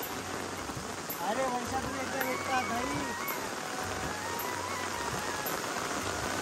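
Monsoon rain falls steadily outdoors in a village, a constant hiss of drops under people talking throughout.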